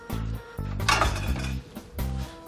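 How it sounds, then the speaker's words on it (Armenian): A metal frying pan set down on a gas stove in a home kitchen, giving a few close, sharp clanks and scrapes of metal on the burner grate, with no talking. "Այնուհետև տապակը դնում ենք գազօջախին,"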